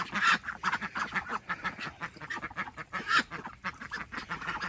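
A mixed flock of adult ducks and young ducklings quacks and chatters in rapid, uneven bursts nearby, many overlapping calls with no talking.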